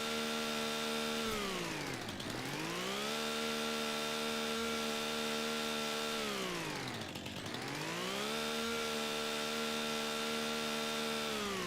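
A chainsaw cuts stumps in Farming Simulator 25, a loud, continuous engine whine that dips in pitch twice as it bites in, then climbs back to full revs.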